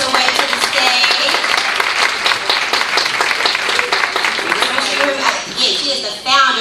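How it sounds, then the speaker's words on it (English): Audience applause at a Women's History Month empowerment symposium as a fire chief walks to the stage, a dense sustained wash of clapping from a large crowd, loud and continuous with some voices mixed in. "Clap her up as she makes her way to the stage."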